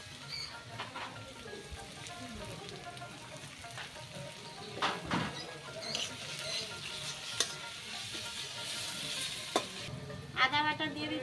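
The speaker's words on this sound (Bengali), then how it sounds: "পেঁয়াজগুলো ভাজা ভাজা হয়ে গেছে, এবার আমি রসুন দিয়ে দেব।" Onions with garlic frying in oil in a pan as a dried-fish dish is cooked, a steady close sizzle broken by scraping stirs and several sharp clinks of a utensil, with no talking.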